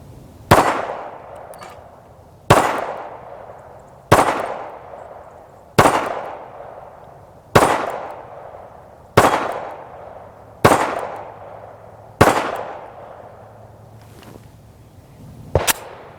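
Nine sharp, loud pistol shots from a Smith & Wesson M&P, spaced about one and a half seconds apart, each ringing out with a decaying echo, and a final quick double shot near the end.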